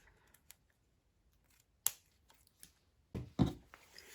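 Scissors cut through a length of ribbon being prepared for a lip gloss bow: a few quiet, brief snips followed by one louder, crisp double cut near the end, with no talking.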